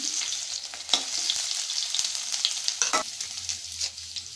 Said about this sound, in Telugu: ఇప్పుడు వెల్లుల్లిపాయలను వేసుకుంటున్నాను